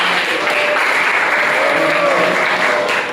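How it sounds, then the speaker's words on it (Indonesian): Applause from an audience at a land redistribution outreach practice session, a dense burst of clapping that lasts about three seconds at a steady, fairly loud level and then fades slightly at the end. "Aplaus buat teman-teman."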